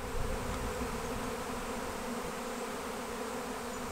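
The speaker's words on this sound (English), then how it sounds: "there are so many bees in the air." Dense, steady buzzing of a swarm of honeybees fills the air at close range, a continuous humming drone with no pauses or voices.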